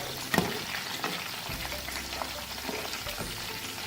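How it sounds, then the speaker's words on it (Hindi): Chicken pakoras fry in oil over a medium flame with a steady, dense sizzle and crackle that carries on throughout, broken by a few brief stirring clinks near the start. "चिकन पकोड़े हमारे मीडियम फ्लेम पर हम फ्राई कर रहे हैं।"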